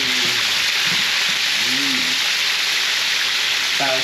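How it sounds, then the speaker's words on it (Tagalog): Steady, loud hissing and crackling of fish frying in hot oil fills the whole stretch, with a faint voice murmuring briefly underneath. "Prito na tayo."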